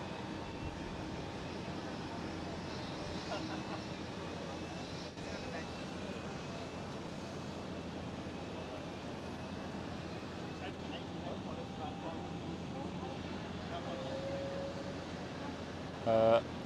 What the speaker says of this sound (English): Alright, TUI is lining up right now. TUI 787.